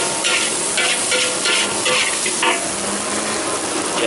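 Green Blora-style nasi goreng stir-fried in a wok at a fried rice stall in Makassar: loud continuous sizzling and hissing broken by rhythmic scraping and tossing strokes of the spatula.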